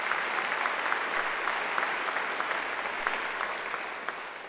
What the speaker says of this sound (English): our trumpeter over there, Colin Grisdale, deserves a great round of applause